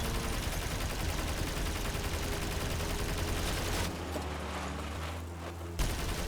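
Gunfire aimed at an enemy in a building-and-combat video game, with a sustained roar of rapid shots lasting several seconds, then a sudden drop to a lower rumble before a final burst.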